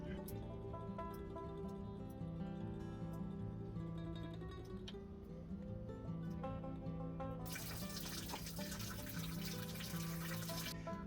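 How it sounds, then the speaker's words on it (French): Water splashes onto potting soil freshly spread over seeds in a vegetable-garden seed tray, a steady hissing pour that begins partway through and continues to the end over constant background music. "Je remets 1 cm de terreau dessus et ensuite j'arrose."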